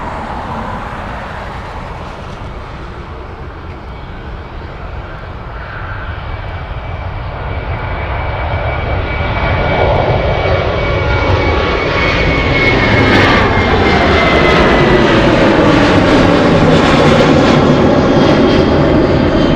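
Alaska Airlines jet airliner taking off from Anchorage for Seattle, a loud engine roar that builds steadily and swells into a rumbling, whining peak as the plane passes close by.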